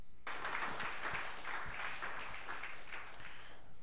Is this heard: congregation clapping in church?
yes